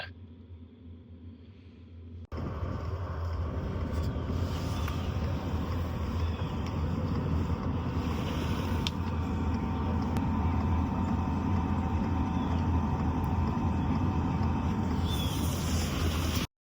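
A BougeRV diesel heater hums with a steady, quiet fan drone and no ticking, alone after a brief quieter start, with faint higher whine throughout.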